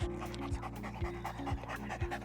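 A search dog pants close by in quick, even breaths with a steady rhythm that continues throughout, clearly heard over a constant background bed.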